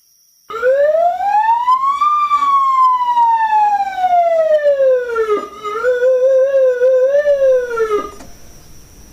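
A police car siren wails loudly and close, sweeping up and down in long continuous cycles for about seven seconds with nothing else heard.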